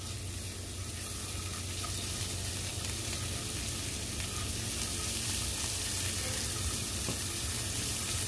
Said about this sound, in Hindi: सबसे पहले हम डालेंगे 2 स्पून ऑयल के, 1 टीस्पून अदरक और लहसुन का पेस्ट ऐड कर देंगे।